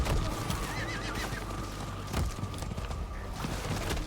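A horse neighs and whinnies amid clip-clopping hooves while riding in the Diablo 4 video game, the sounds loud and close over a steady background of game noise.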